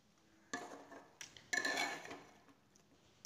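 A spoon scrapes and knocks in a cooking pot while mixed vegetables for veg tahari are stirred, a few soft, fairly faint bursts separated by quiet gaps.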